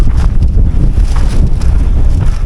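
Strong wind roars steadily and buffets the microphone with a loud, continuous rumble and no voices, during a night walk beside a pond.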